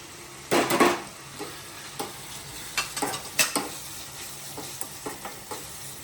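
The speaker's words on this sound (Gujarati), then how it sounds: "હવે આપણે લાલ મરચું પાવડર મિક્સ કરી લઈશું" A spoon stirs garlic chutney after lemon juice and red chili powder are added, making close, scraping bursts with quieter stirs trailing off and no talking.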